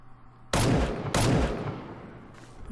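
An enemy fires in a GameGuru first-person shooter, two loud, sharp gunshot blasts about half a second apart, each trailing off in a rumbling echo.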